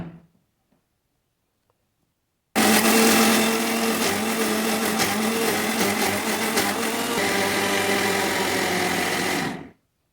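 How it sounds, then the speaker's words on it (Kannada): A kitchen mixer grinder blends garlic and dry chillies with water into an Uttara Kannada style fish curry paste, starting abruptly after a near-silent lead-in and running loud and steady for about seven seconds before cutting off. "ಸ್ವಲ್ಪ ನೀರನ್ನು ಹಾಕಿ ಗ್ರೈಂಡ್ ಮಾಡೋಣ."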